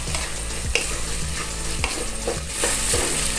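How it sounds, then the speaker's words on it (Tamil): Carrots sautéing with onions in a pan for coconut milk rice: a steady sizzle and fry with a spoon stirring and scraping in regular strokes, close and alone without talk. "இப்போது கேரட் வந்து சேர்த்து ஒரு 2 வதக்கியாச்சு"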